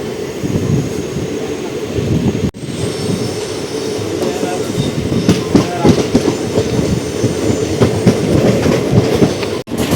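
A passenger train runs from Tiruvannamalai toward Tirupati, its loud, continuous rumble carrying a rhythmic clickety-clack of wheels over rail joints, with two sharp brief dropouts along the way.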